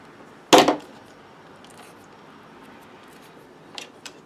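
A wire stripper bites into the insulation of a power cord on a miter saw repair, giving one sharp close snip followed by quiet, then two faint small clicks near the end.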